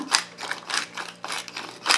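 A knife chops black pepper for Lao-style dried beef, giving about five crisp, evenly spaced chopping strikes in a quick steady rhythm, close and clear with no talk.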